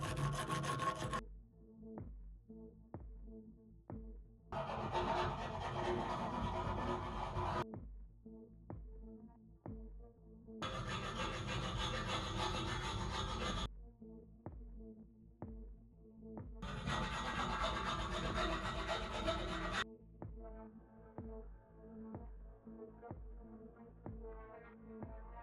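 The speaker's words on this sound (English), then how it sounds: "So I decided to scrape off the rust by hand with a wood file" Hand-held wood file rasping heavy rust off a steel boat hull, in three long, loud scraping bursts separated by quieter stretches of light tapping and knocking.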